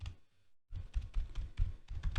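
Computer keyboard keys typed in quick bursts while entering Java code, close and crisp clicking with a short pause near the start, no voices.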